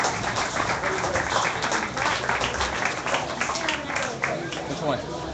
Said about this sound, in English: one more last final round of applause for our judge this evening